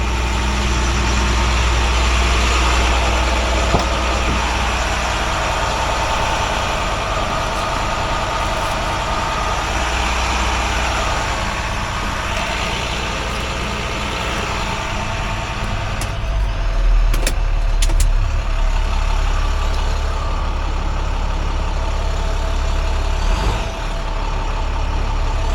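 A tow truck engine idles steadily and close by, a continuous low diesel rumble, while the truck's bed swings over to the side, with brief mechanical clanks near the middle and toward the end.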